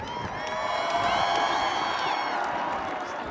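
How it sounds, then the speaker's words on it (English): A stadium crowd cheers and whoops for a college marching band twirler, steady and loud throughout, with scattered clapping and shouts and no pause. "Give another round of applause for our twirler"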